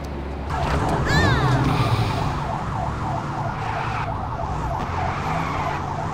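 Police car siren in the LEGO City Undercover video game, a wailing siren that rises and falls in a repeating cycle over constant engine and driving noise, loud and close.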